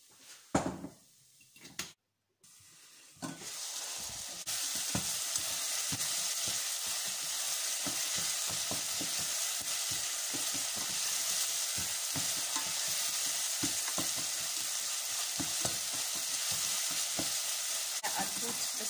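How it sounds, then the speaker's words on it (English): Chopped onion and salt stirred in hot oil in a pan, a loud steady sizzle that starts after a few clattering kitchen knocks and continues close up to the end, with occasional scraping strokes. "I'll put the salt together with the onion here, or mix them properly."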